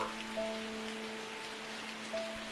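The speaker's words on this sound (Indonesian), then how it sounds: "Hujan gerimis turun sejak subuh." Light drizzle keeps up a soft, steady patter of fine drops, with faint tonal hums drifting underneath and no voices.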